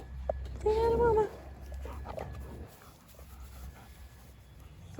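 A German Shepherd whimpers near the start with a rising, wavering whine, then pants softly over a low background rumble, with a brief spoken word at the end.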